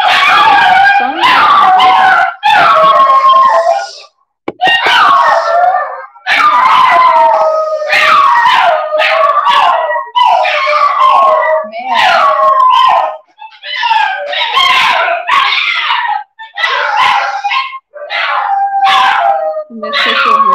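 Small dogs next door howl and whimper in long, wavering cries, several voices overlapping in repeated bursts with brief gaps, loud and close for the whole stretch.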